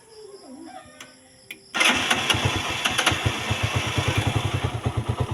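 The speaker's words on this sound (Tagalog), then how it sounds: "yan yung tunog ng ating makina." A tricycle's motorcycle engine is started after a brief quiet spell, then idles close by with a steady, fast chugging pulse that grows slightly stronger, with no talk over it.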